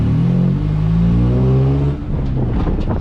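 A junkyard Honda Civic EK hatchback, lowered, with an aftermarket exhaust, revs hard on a test drive. The engine holds a loud, steady rising drone, eases briefly, then picks up again with a rougher, uneven note.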